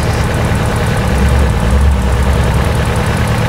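Engine idling with oil flowing well, a dense, steady low rumble and mechanical clatter, loud and close throughout, with no one speaking.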